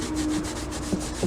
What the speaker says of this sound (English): I'm just going to give it a quick wipe down with the cleaner side of the microfiber cloth.